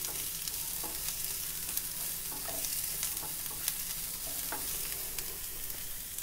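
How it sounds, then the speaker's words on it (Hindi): Two onions browning in a pan sizzle steadily, with soft scraping stir strokes scattered throughout. "यहाँ मैंने 2 प्याज लिए हुए हैं। इसको हम जरा सा भूनेंगे।"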